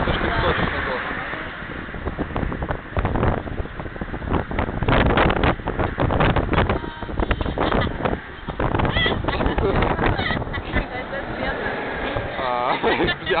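Steady wind roars across the microphone outdoors in rough, gusting bursts, with voices talking underneath for most of the stretch.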